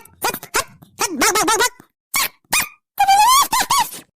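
A dog whimpers in a run of short, squeaky, high-pitched whines and yelps, close and loud, broken by brief pauses; no growl stands out.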